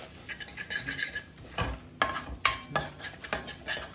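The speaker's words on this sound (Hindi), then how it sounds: "बेसन को हम धीमी धीमी आंच पे भूनेंगे।" Besan roasting in a pan over a low flame while being stirred, giving sharp scraping clinks of a metal spoon against the pan in an irregular rhythm, close and clear, with a faint sizzle underneath.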